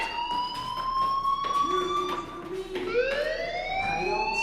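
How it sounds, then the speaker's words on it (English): A fire alarm rings in the video game Life Is Strange. It sounds as a loud, steady electronic tone that slides upward and restarts, with a faint voice now and then. "do you hear that fire alarm? That means you should be outside."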